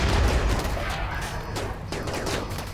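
Gunfire rattles through a RimWorld Biotech battle, a bursty volley of shots and booms at moderate level that thins out, then rises again in a second burst.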